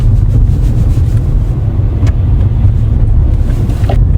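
Steady in-cabin road and engine rumble from a 2011 Volkswagen Jetta 1.6 driving on the road while shifting into third gear, a continuous loud low drone with a faint brief clunk partway through.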